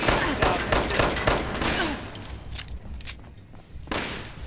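Rapid gunfire rattles in Fallout 76, with a dense burst of shots at the start, then sparser single cracks and a final shot near the end, all loud and close.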